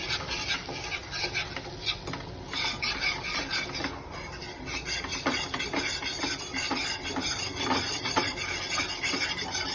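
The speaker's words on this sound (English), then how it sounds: "mix it around. So this becomes your roux." A whisk or spoon scraping and rubbing steadily through a butter and flour roux in a pan for mac and cheese, a continuous close rasping stir with no talk.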